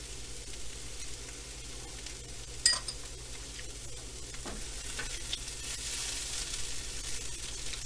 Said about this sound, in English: heat everything up and let things fry so you get the browning action going